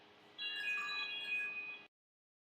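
Phone text message ringtone, a bright electronic chime of a few ringing tonal notes played once, clear and fairly close, then cutting off into silence, with no talking.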